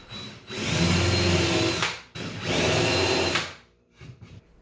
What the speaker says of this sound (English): In order to attach the pillar pieces to the bottom shelf, I first made a few pilot holes.